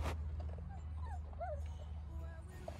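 An American Pit Bull Terrier puppy whimpers and yips in short high, wavering cries over a low steady hum, close and fairly faint, with no one speaking.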